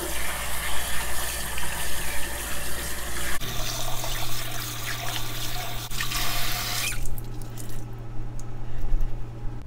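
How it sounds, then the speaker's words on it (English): A bamboo towel rinsed under a running tap in a sink, loud splashing water with wet squishing as the cloth is wrung, the flow cutting off near the end. "We'll rinse this out and then we'll use it to wipe up the rest of this."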